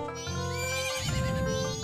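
A horse neighing in the video game Majora's Mask, one loud, close whinny with a rising pitch, followed by a low snorting rumble, with no talking.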